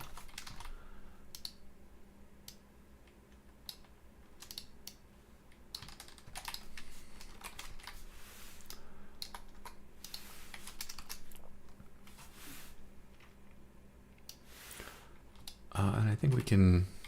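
Steady clicking of typing on a computer keyboard while working on a Godot roguelike game, quiet and close, running in continuous irregular runs of keystrokes with a louder cluster near the end.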